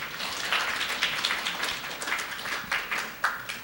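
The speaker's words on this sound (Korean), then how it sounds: "박수 한번 쳐주시기 바랍니다" Audience applause in a conference hall at an international academic symposium, a steady wash of many hands clapping at moderate level with scattered louder claps, continuing for several seconds.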